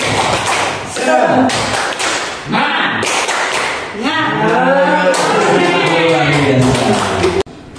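An audience of teachers at an in-house training session does the tepuk semangat clapping chant, loud sharp claps in quick rhythmic sets mixed with shouted voices, followed by a long sustained group shout.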